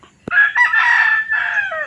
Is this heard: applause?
no